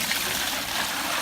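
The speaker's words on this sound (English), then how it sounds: "Let's put the water in." Hot water pours into a bucket in a steady, loud, close rush of splashing liquid that continues without a break for the whole moment.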